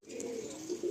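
Madrasi pigeon giving a brief low coo, soft and close, lasting about a second with nothing else over it.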